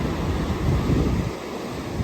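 Ocean surf at a California beach on an early morning rolls in as a broad, steady roar, swelling and easing slightly. Gusty wind buffets the microphone, and no one speaks.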